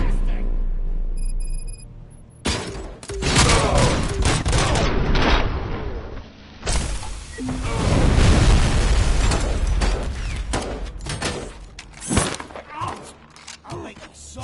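Grenade launcher rounds fired in RoboCop: Rogue City set off a string of loud, booming blasts with crashing debris. Several heavy bursts land over about fourteen seconds, and a voice can be heard talking in places.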